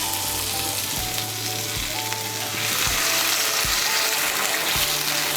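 Hot water is poured into a spiced potato curry in a hot pan, and the steady frying sizzle swells into a louder, broader hiss partway through. Faint stirring clinks sound along with it, and no one speaks.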